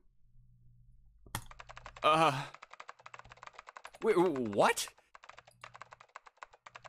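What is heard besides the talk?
fast keyboard typing in video game Nine Hours, Nine Persons, Nine Doors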